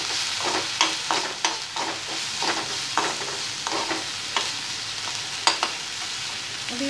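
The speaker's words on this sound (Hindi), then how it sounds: "अभी इसको हम बारीक आंच पे ही रखते हैं, ताकि ये कांदा अच्छे से भुना जाए।" Chopped onions frying and being stirred in a pan over low heat for a green masala bombil fish curry, with a steady close sizzle broken by repeated scraping stirs through the whole stretch.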